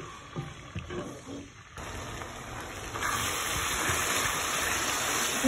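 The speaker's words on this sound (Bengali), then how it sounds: "এখন আমি পানি দিছি" Water poured into softened frying onions in a pan sets off a gushing hiss that starts after a short quieter stretch and grows into a steady, fairly loud sizzling roar, close by and without voices.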